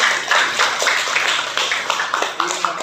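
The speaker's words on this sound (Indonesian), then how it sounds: "Tepuk tangan untuk kelompok 3" Audience clapping for a student group in a classroom, a dense, steady patter of many hands lasting the whole stretch, fairly close and without voices over it.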